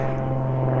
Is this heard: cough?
no